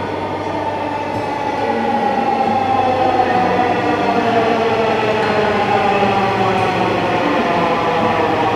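Dhaka metro train bound for Motijheel running steadily, a continuous loud rumble and whine of wheels and motors with a faint rhythmic clatter throughout, no voices.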